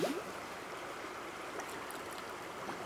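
Water bubbles and gurgles through a micro hydro pipe in a soft, steady trickle, with a faint burble near the start.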